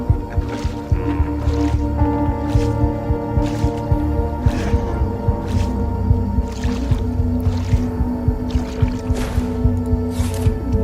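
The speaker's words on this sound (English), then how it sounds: "carefully make your way through the water and slowly walk through it without alarming any of the guards" Wading footsteps through water in the Thief video game, a slow steady series of sloshing splashes about once a second over a dense, droning ambient game soundtrack.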